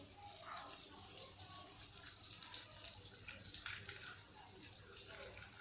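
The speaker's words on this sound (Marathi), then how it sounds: "यात मी पाणी टाकणार आहे, आणि पाणी टाकून आपण हे मसाले कालवून घेऊया." Water poured onto a bowl of mixed spices for Jain veg pulao, a quiet continuous trickling splash heard close and steady throughout, with no talk.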